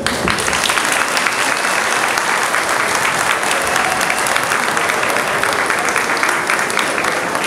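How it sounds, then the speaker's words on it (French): A large crowd applauds steadily at the morning send-off for Une Rose, Un Espoir 2025 in Algrange, a dense, continuous wash of clapping that stays loud and even throughout, with no voices standing out. "on peut déjà commencer les applaudissements"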